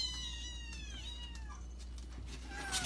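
A hungry kitten cries in a series of high, thin meows while being bottle fed, quiet and close against a low steady hum, with no talking.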